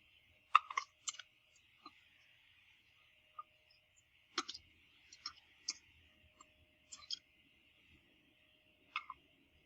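Computer mouse clicks during a software demonstration, a scattered series of about a dozen sharp, close, quiet clicks, some in quick pairs, over a faint steady background hum.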